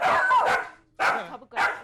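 An agitated dog that will not calm down during a trainer's home visit barks close and loud, a run of barks followed by two more sharp barks after a brief pause.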